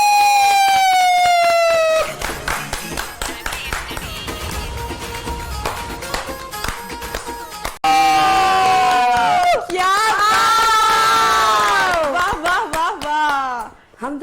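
A studio audience on a Pakistani TV show cheers and shouts, with bursts of clapping and crowd noise over loud music and singing that swells and drops across the stretch.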